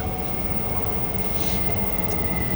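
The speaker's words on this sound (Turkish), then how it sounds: "metro geliyor şu an. Çok ses çıkacak." A loud, steady rumble of an arriving subway train fills the space, with a constant roar and faint high squeal near the end, no talking.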